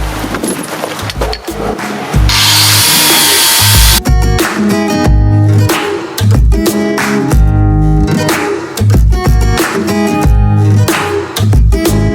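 Loud, steady grinding from an angle-grinder-type disc tool working over the rusty bodywork of a car, with a short hiss-like burst near the start. It runs continuously and close up, with no talk over it.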